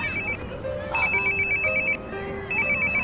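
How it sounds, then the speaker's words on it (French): Mobile phone ringtone plays in repeated electronic bursts of a bright tonal melody with short gaps, over a busy background with other tones and murmur. "Ulrich, ça fait un quart d'heure que j'essaye de te joindre."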